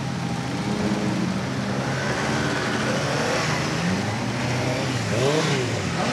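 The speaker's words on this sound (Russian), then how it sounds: "Рев мотора, ветер в лицо." A column of motorcycles rolls through a Russia Day parade in the Podrezkovo district of Khimki, their engines droning loudly and steadily, with rising revs toward the end.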